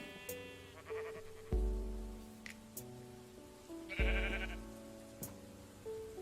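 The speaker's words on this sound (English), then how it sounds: "Oh, hello, sheep." Sheep bleat in a game, with several wavering cries spread across the stretch, mixed with clear tonal chimes and soft thumps, no speech.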